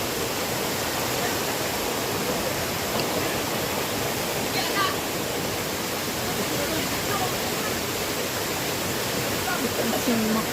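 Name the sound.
waterfall at Casilak View Farm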